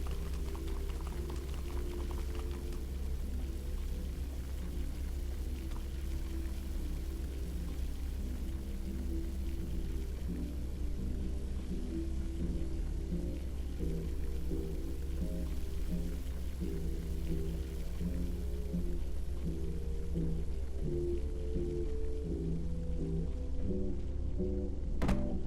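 Water flowing inside an indoor water system in Minecraft: Story Mode, a steady soft bubbling rush that runs alone and unbroken at a low level, with faint music underneath.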